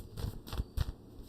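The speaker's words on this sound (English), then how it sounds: "Let me shuffle these cards up." Tarot cards being shuffled by hand, making three quick riffling bursts in a steady rhythm, close and moderately loud, with no talking.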